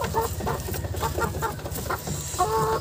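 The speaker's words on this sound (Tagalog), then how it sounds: "Ito yung mga manok natin." Farm chickens cluck repeatedly in a lively, overlapping chorus close by, with short rhythmic calls continuing throughout.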